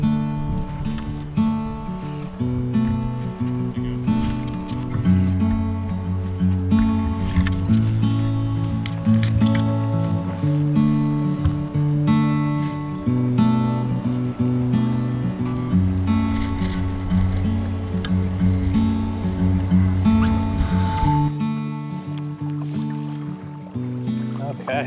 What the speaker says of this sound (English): start paddling